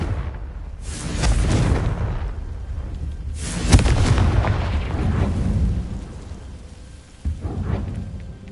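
Confringo explosion spell in a wizarding video game, two heavy rumbling booms several seconds apart with long rolling tails, then a smaller burst, no talk.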